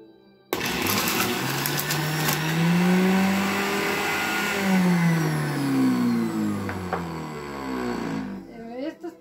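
A blender whirs steadily with pieces of vegetables for juice, loud and close, its pitch swooping up and down as the load shifts, running for about eight seconds before stopping.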